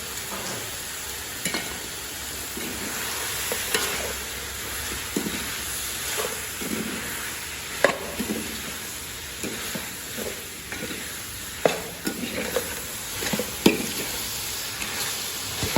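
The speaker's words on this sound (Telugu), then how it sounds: "అలాగే ధనియాల పౌడర్ ఒక 3 స్పూన్లు. ఇప్పుడు ఒకసారి కలుపుకుందామండి." Chicken curry with coriander powder is stirred in a sizzling pan, likely a large batch: a steady close sizzle runs throughout, broken by repeated scraping knocks of the spoon against the pan, with no talking.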